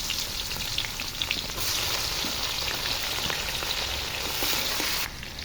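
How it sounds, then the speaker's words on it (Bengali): Onions fry in hot oil in a pan for koi fish curry, a dense crackling sizzle that holds steady throughout with a few light stirring scrapes, no speech. "ঝোলটা চড়াবো, পেঁয়াজ দিয়ে দিলাম"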